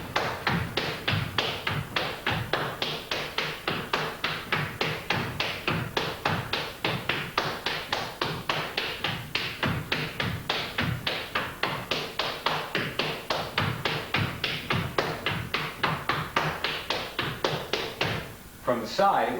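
Flatfoot dancing alternating the snake in the grass step with the Alamo step, a rapid, continuous run of crisp shoe taps and thuds on a hard floor, steady and driving for the whole stretch.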